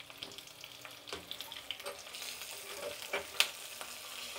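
A tempering of garlic, curry leaves and asafoetida fries in hot oil, giving a steady, close sizzle with crackles and a few stirring scrapes.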